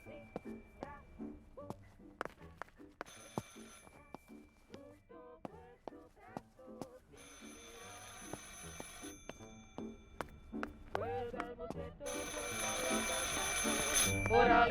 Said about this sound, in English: I should pick up the phone but remain silent